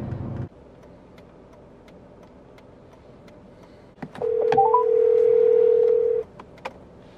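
Phone call placed from a car: a short burst of noise, then a few quick dialing beeps and a steady tone lasting about two seconds before going quiet.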